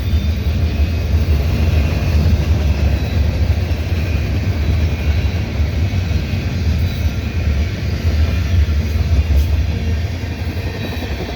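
A CN mixed freight train of gondolas and tank cars rolls past at Dorval Ramps, a loud, continuous low rumble that holds steady throughout with no voices.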